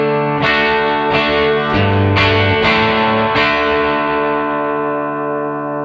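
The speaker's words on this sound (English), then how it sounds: "So we're already getting a little bit of distortion, even with the preamp control turned pretty far down" Electric guitar through a Catalinbread Dirty Little Secret MK II overdrive pedal with the preamp turned low, gritty overdriven tone, several chords strummed in a steady sequence, sustained and fairly loud with no talking.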